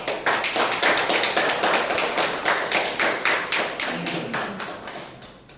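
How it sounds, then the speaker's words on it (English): Audience applause welcoming a speaker at an educational session on speech evaluation: steady, close clapping from a small group that carries on evenly and then slowly fades, with no talking. "welcome DTM Prasad with a thunderous round"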